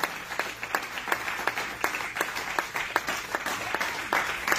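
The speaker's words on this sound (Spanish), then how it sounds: "si va a aplaudir, apláudele más fuerte" A church congregation claps steadily, with many hands striking in a dense, rhythmic wash of applause that keeps an even pulse throughout, fairly close and sustained with no talk over it.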